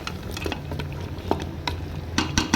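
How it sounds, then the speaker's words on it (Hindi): Onions frying and being stirred in a pan for mutton malai handi, with a steady low sizzle under scattered scraping clinks of a spoon against the pot, close and fairly quiet, no talking. "प्याज़ों को अच्छी तरह मैं भून लूँगी।"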